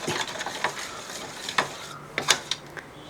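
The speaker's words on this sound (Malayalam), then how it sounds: "ഇതിനകത്ത് നമുക്ക് ഒരു ടീസ്പൂൺ പഞ്ചസാരയും കൂടെ ഇട്ട് കൊടുക്കുകയാണ് പഞ്ചസാര ഇട്ടതിന് ശേഷം ഒന്ന് ഇളക്കി" A spoon stirs sugar into an egg and maida flour batter in a bowl, giving a few quick scraping taps and clinks, close and fairly soft, with short pauses between strokes and no voices.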